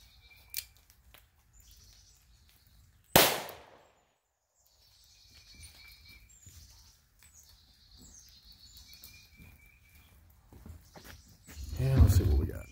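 A single loud, sharp report comes from a CCI .38/.357 Magnum shotshell fired from a 6-inch revolver barrel. It stands out against quiet surroundings, with people talking before and after the shot.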